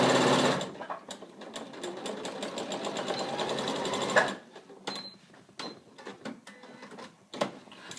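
A domestic sewing machine stitches fabric for an NHS scrubs bag, running in a fast continuous rattling burst that then slows into a few short, slower stitch runs with clicks and pauses in between.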